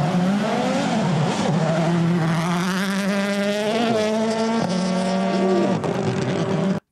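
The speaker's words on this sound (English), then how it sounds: "Boy, that upshift pop." Rally car at Safari Rally Kenya 2022 screaming past at full throttle, loud and close, with rising engine pitch through gear changes and sharp pops on the upshift, sustained for several seconds before cutting off abruptly.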